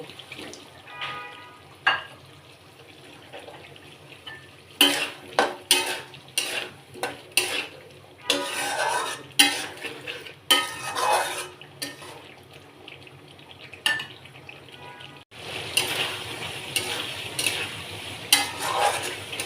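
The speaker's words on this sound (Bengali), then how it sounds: "ভেজে রাখা আলুটা দিয়ে দেব" Fried potatoes tossed into a pan of turmeric, chilli, cumin and ginger paste crackle and scrape under repeated stirring, with clattering spatula strokes over a low sizzle and a louder hiss surging near the end.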